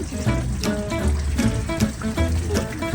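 Spring water in Udmurtia trickles and gurgles close by, a continuous bubbling flow with small irregular splashes and watery blips throughout.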